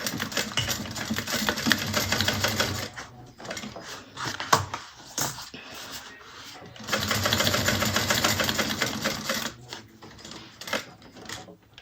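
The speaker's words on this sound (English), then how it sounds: "we're going to sew from one corner, go all the way down, cross the bottom, and back up to sew it in place" A sewing machine runs in steady, close, rapid bursts while stitching a fabric bag seam from corner to corner, with a short pause partway through before the stitching resumes.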